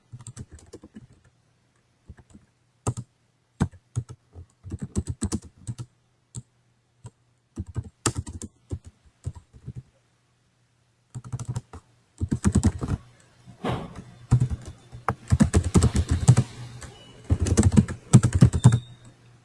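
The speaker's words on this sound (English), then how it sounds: "Now I will type a sentence" Someone types on a computer keyboard up close, first with scattered single keystrokes and pauses, then in denser rapid bursts toward the end, with no one speaking over it.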